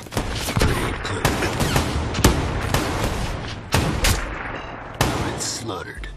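Gunfire and a grenade blast from a combat video game: repeated sharp broadband bursts and booms at irregular intervals, loud and close, with a voice speaking over the action.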